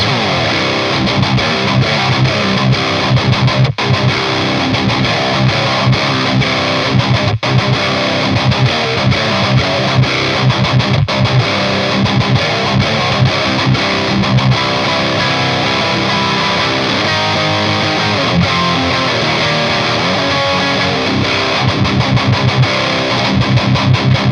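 Heavily distorted electric guitar through a Marshall amp's OD2 channel chugs and rings out loud and continuous, playing dense chords with crunchy amp saturation and a few brief pauses.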